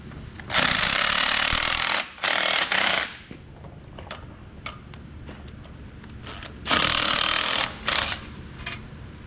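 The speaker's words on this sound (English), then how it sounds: "6 bolts that hold it on, so we're going to go ahead and take those off" Bolts holding the clutch pressure plate are being removed from an Allis Chalmers Model D grader engine. Two loud bursts of a rattling power tool are heard, followed by quieter clinks and handling noises in between.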